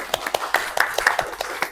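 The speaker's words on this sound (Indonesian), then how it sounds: "tepuk tangannya." A class of students clapping hands in a short burst, a dozen or so sharp, uneven claps spread across under two seconds, close and fairly loud.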